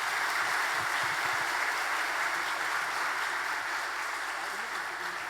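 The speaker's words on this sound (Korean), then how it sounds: "박수 보내주십시오" Congregation applause at a church appointment ceremony for shepherds, a steady broadband wash of clapping that holds loud and even throughout with no pause or fade.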